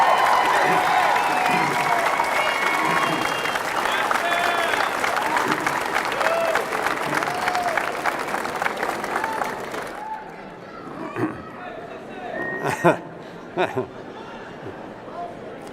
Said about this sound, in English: graduates, please give them a rousing applause